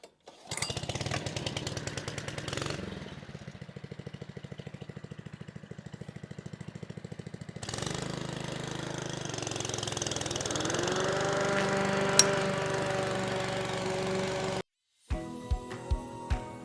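A Kubota mower and a whipper snipper cut summer grass, engines droning loudly and continuously nearby, the pitch shifting as load changes, ending in a short gap and a few sharp knocks.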